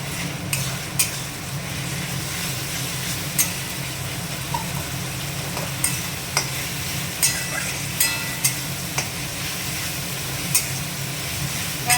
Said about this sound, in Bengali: পেঁয়াজ রসুনটা বেটে ভালো করে নেড়ে নেবেন।